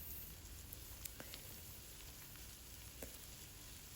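Onions frying in a pan for chicken pies, a faint, steady hiss of sizzling with a few small crackles and pops.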